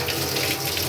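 Water gushes steadily from a newly fitted pipe over a kitchen sink, a close, continuous hiss and splash with no talk.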